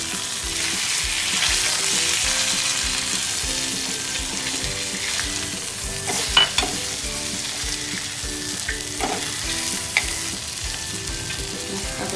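Bangda mackerel pieces fry in oil with a loud, steady sizzle close by. A few spatula knocks and crackles sound as the fish is flipped to its other side, and there is no speech.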